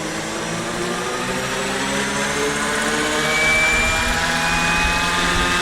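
A Roban MD-500E 800-size RC helicopter lifting off in a light headwind, its steady whining rotor and motor drone holding loud and close, swelling slightly as it gets light on the skids.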